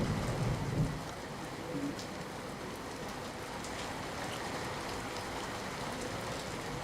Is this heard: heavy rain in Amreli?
yes